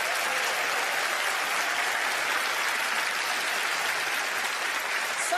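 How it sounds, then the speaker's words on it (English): A studio audience at a Penn and Teller magic show breaks into steady, loud applause that holds evenly for the whole stretch without a voice over it. "Please give them a round of applause."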